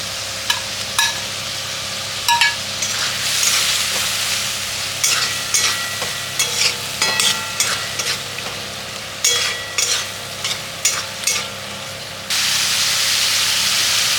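Potatoes pre-fried in mustard oil are tipped into a pan of onion and tomato, loud sizzling broken by a run of sharp spatula scrapes and clatters, ending in a steady hiss.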